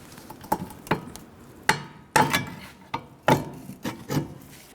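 Metal-on-metal knocks and scraping as a shock absorber is worked loose from the rear suspension knuckle of a 2006-2012 Ford Fusion, with about eight sharp, irregular strikes close by and no talk.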